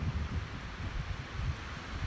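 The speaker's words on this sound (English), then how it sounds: "it's a very windy" Steady wind buffets a lakeside campsite at Ram Lake in the Boundary Waters, a low continuous rumble of gusts against the microphone with faint rustling, no voices.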